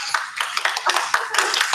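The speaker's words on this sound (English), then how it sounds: "I want to give Nazarene just a huge round of applause" A small group claps in a room during a church talk on generational wealth building, making brisk, uneven, close applause with crisp individual hand claps throughout, without voices.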